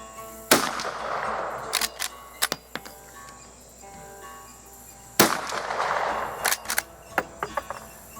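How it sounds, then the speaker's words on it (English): Two sharp shots from a Rossi R92 lever-action rifle chambered in .45 Colt, fired at a range, ring out about five seconds apart, each followed by quieter clicks and clacks of the action between them. "I'm going to take these last 3 shots at bullseye using the standard sights."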